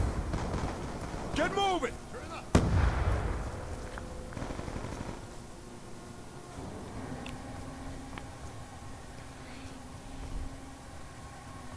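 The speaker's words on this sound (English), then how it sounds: "Grenade!" A grenade goes off in Black Ops 2 on the Cargo map during a Headquarters match: one sharp, heavy blast with a short rumbling tail, set among game voices and sounds.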